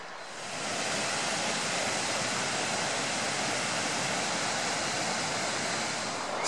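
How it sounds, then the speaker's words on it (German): The calm Mangfall river flows with a steady, broad rushing hiss that swells in after a moment and holds evenly, close and continuous, with no voices. "Schöner, ruhiger Fluss übrigens."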